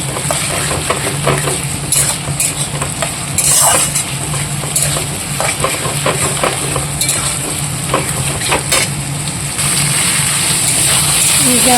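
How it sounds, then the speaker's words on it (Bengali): Tomato, ginger and garlic paste sizzles and is stirred in a pan, a steady frying hiss with scraping and clinks of a spoon on the pan, running throughout with some background noise. "টমেটো আদা আর রসুনের পেস্ট দিয়ে দিলাম এটাকে ভালো করে কষে নিয়ে"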